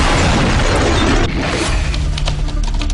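A loud, sustained roar of heavy explosions on the aircraft carrier USS Forrestal, deep rumbling booms and crackling blasts filling the space, continuous and overpowering.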